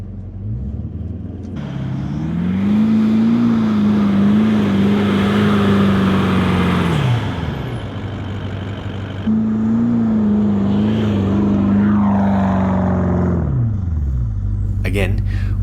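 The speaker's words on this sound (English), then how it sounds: "we can hear the traction control system engage" A Toyota Land Cruiser 200 drives through sand dunes in mud-and-sand terrain mode with traction control engaging: a loud, steady engine drone rises and falls in two long pulls, with wheel and sand rumble underneath.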